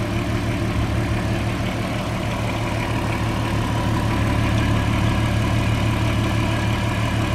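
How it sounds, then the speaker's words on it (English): A 2004 Volkswagen R32 with a swapped R32 engine idles steadily with no pump noise, a constant low hum and rumble heard close up and alone throughout. "And there's the motor without the pump noise."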